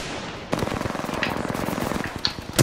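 Rapid automatic gunfire from Apex Legends during a ranked match, a player coming under fire: dense bursts of shots start after a brief quiet moment and continue steadily, fairly loud and close, with a few sharper cracks near the end.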